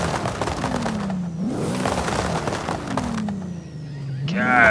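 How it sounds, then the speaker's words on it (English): A Mercedes-Benz SL65 AMG Black Series V12 in Forza Horizon 5 drives around, its engine droning steadily with pitch rising and falling through revs and shifts, loud and close throughout, with a sharper climb at the end. "Let's go around outside for a nice little spin with the V12 engine in this thing"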